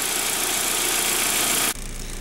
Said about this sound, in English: Okay, I've got the engine running.